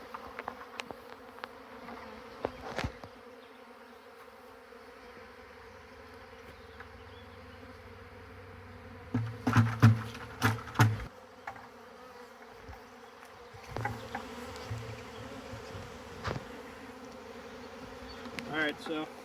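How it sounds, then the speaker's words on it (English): A honeybee swarm clustered on a branch hums with a faint, continuous buzz, while louder bursts of activity and handling noise come and go in uneven clumps. "I think the bees are liking this here more than that tree."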